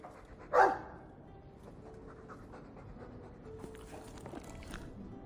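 A Mabari war dog in the video game Dragon Age II gives one brief loud pant or huff near the start, followed by quiet game ambience.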